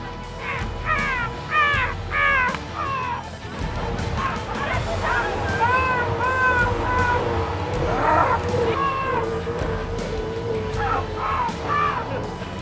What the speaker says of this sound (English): We found a bunch of bloody seagulls.